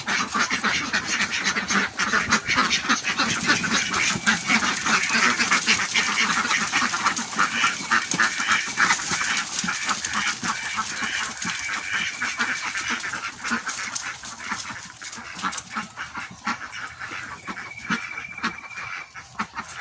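A flock of ducks quacks continuously, many overlapping calls close by and fairly loud, forming a busy, noisy chorus throughout.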